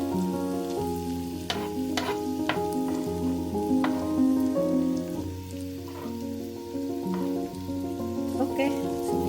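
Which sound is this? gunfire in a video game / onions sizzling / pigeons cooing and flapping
onions sizzling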